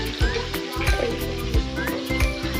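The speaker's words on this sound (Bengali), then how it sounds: "আলু আর এই কচুগুলো আমি একটু ভাজে নিব হালকা করে।" Potatoes and taro pieces frying in oil with turmeric, a steady close sizzle broken by soft stirring clatters at a loose, uneven pace.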